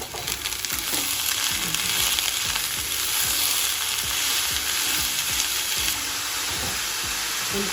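Onions fry in oil for an okra stir-fry, a steady close-up sizzle with stirring scrapes running throughout, no voices.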